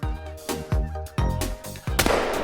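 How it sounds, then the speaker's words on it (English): Four loud shotgun blasts fire in an uneven sequence while duck hunting in the video game theHunter: Call of the Wild, each sharp report trailing into a short decay, with no talking. "Alright, we're going to pop up and take a shot."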